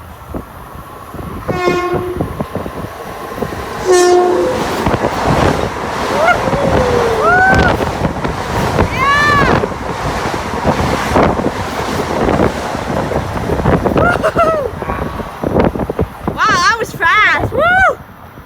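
A commuter deadhead train rushes through the Westbury station area at speed, a loud, sustained roaring rumble with screeching wheel and squeal tones and wind buffeting, while a person exclaims over it.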